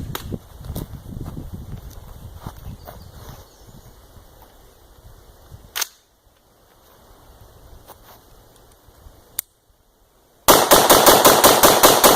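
An AR-15 fitted with an SD3G trigger fires rapid strings of shots at a Coke bottle outdoors: sharp cracks early and mid-clip, gaps of quiet, then a loud, fast burst of gunfire at the end.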